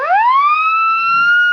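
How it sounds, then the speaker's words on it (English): A police siren gives a short test blast on an old radio drama, a loud close wail that rises quickly in pitch and then holds steady for over a second. "real police siren, huh?"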